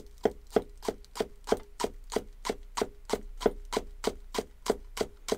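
A knife chops green onions very thinly on a cutting board: a fast, even series of about twenty crisp taps, close and clear, in a steady rhythm with no voices.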